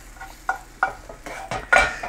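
An egg omelet patty cooks in a pan for a biscuit breakfast burger, with a soft steady sizzle broken by several sharp scraping and tapping utensil strokes against the pan, close and clear with no talking.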